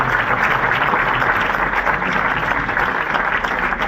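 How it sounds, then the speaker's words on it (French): Applause from a crowd at a hall event, honouring a man from the association's 2020 speakers, forms a dense, steady wash of clapping throughout, fairly loud and continuous with no voices standing out. "J'aimerais qu'on l'applaudisse, parce que c'est un grand monsieur."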